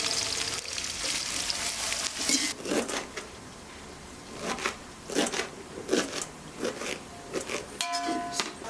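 Large onions sizzling and frying in a pan for chicken leg piece biryani, a steady hiss broken by bursts of stirring scrapes, close and moderately loud with no talking.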